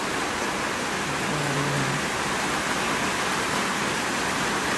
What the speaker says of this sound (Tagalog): lumalakas na nga rin ang ulan